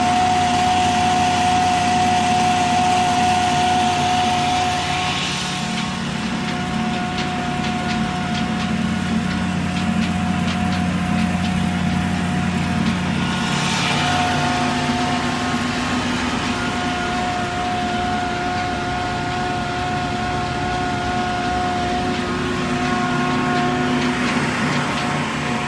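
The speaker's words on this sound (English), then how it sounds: "the flour mill is run with the help of this pulley" Pulley-driven flour mill grinding wheat inside a mustard oil plant, a loud continuous mechanical drone with a steady tonal whine and faint periodic swells, no voices.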